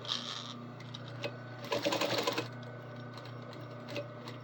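A sewing machine runs stitches on a repair of military-style gear that has been skipping stitches. It makes a quiet, steady mechanical hum with a short, busier clattering burst in the middle, heard alone.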